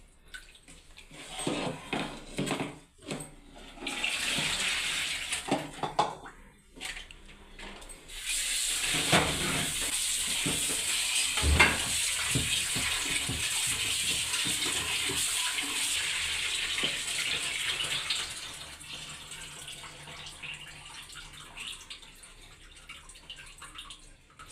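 Chicken pieces for lollipops are washed under running tap water in a kitchen. Splashing and intermittent stream noise give way to a steady, hissing flow that lasts several seconds before tapering off.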